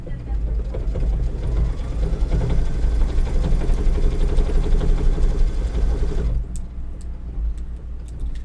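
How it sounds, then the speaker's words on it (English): A Kimberbell embroidery machine hums and chatters in a fast, steady stitching rhythm while sewing a spool design, loud and close, then stops near the end, leaving faint clicks and handling sounds. "it's going to stitch the bottom and the top of the spool"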